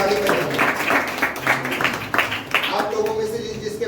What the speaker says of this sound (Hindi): और उसके लिए ताली बजाएंगे।